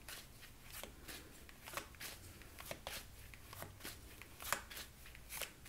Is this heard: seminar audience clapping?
no